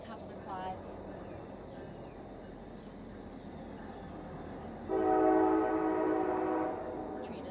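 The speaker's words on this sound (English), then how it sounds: "Train is loud." A train passes outside during a home workout, a low distant rumble under the room sound that swells with a loud horn-like tone for about two seconds near the end.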